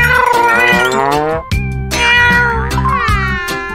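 A cat meows loudly and close up, two long drawn-out wailing meows with a short break between them, insistent and whiny in tone, with no talking over them.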